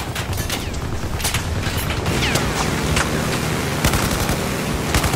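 Battlefield 4 combat: dense, continuous gunfire with rapid overlapping shots and heavy rumbling battle noise throughout, loud and close.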